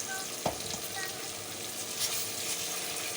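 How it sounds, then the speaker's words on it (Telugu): Ginger garlic paste sizzles steadily in a hot pan while being cooked for a bitter gourd curry, a continuous close frying hiss with a brief stirring scrape near the start. "అల్లం వెల్లుల్లి పేస్ట్ ఫ్రై అయిందండి."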